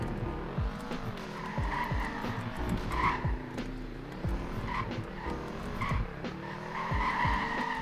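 Car drifting in the Greenville Wisconsin driving game, its tires squealing in repeated skids over a steady, revving engine, loud and close throughout without talk.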